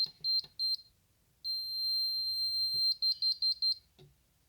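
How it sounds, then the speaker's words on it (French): Short electronic beeps from a home automation box during pairing of a virtual transmitter: a few quick bleeps, a long sustained tone, then a rapid series of five or six short beeps, clear and close in a quiet room. "on a entendu que la box a fait plusieurs bips courts"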